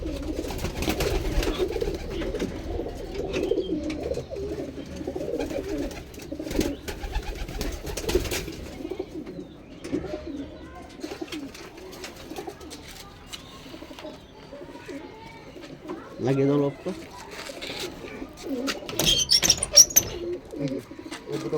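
Pigeons, a male and a female Mantraji pair, coo in soft, repeated low throaty calls close by, with a few chirps and rustles and occasional human speech mixed in.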